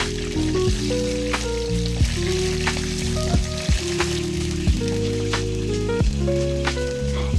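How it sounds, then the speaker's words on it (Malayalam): Chicken frying in hot oil in a home kitchen gives a steady sizzle with scattered crackles and pops, close and continuous, over a sustained tonal background layer. "അങ്ങനെ ഞാൻ എന്താ ചിക്കനൊക്കെ വറുക്കാൻ വെച്ചു."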